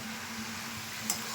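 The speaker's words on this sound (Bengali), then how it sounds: "সেটা দিয়ে লাউটাকে আমি খুব ভালো করে কষিয়ে নিচ্ছি।" Bottle gourd with Kashmiri chili powder and other spices fries in a pan with little oil as it is stirred, a steady close sizzle with soft scraping and a faint clink near the end.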